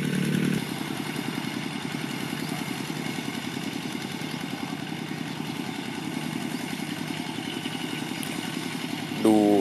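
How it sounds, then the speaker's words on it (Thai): A walking tractor plowing a rice field, its single engine running steadily nearby with a rough, continuous mechanical drone and clatter from start to finish. "มาดูรถไถเดินตามครับนี่"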